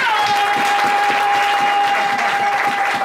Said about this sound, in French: Donnez une acclamation